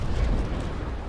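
A carronade broadside fires in the Naval Action naval combat game, a single loud, sustained rumbling boom filling the whole moment with no voices.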